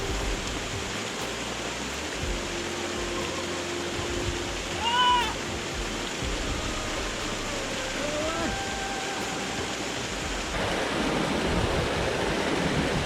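A waterfall at Katherine Gorge in Australia gives a steady, broad rushing wash of falling water throughout, with a few faint tonal chirps over it and a slight rise in level near the end.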